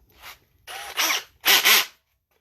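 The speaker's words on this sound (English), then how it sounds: "we are going to use a 1/16 inch drill bit, little tiny thing" A tiny 1/16 inch drill bit bores into a white plastic rod in three short bursts, the motor whining up and down with each brief squeeze, close and fairly loud with quiet gaps between.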